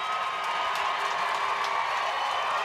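Crowd noise fills a women's field hockey World Cup match between the USA and Ireland, a steady, dense roar of spectators with scattered shouts and claps, constant in level throughout.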